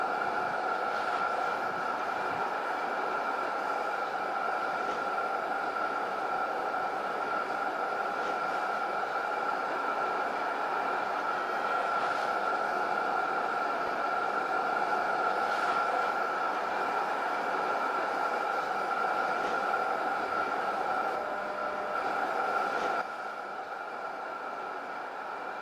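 Inside a moving tram in LOTUS Simulator: a steady, even rolling hum and hiss of the ride with faint clunks, continuing unbroken for the whole stretch before easing off slightly at the end.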